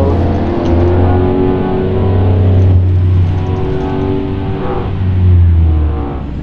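A 5-litre V8 car engine drones loudly while driving on a highway cruise, its deep low rumble swelling and easing as the throttle changes, close and steady without talk.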